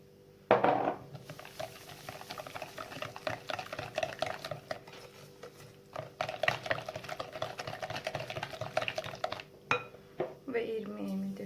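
A spoon stirs blue poppy seeds in a bowl for Turkish revani batter, with steady scraping and clinking taps close by and a voice speaking quietly over it.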